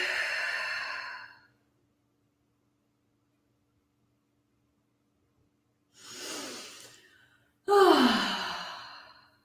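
Breath exhalations during a yoga core twist: a long breathy sigh, a pause of near silence, then two more airy exhales, the last sharper and stronger, all close and clear.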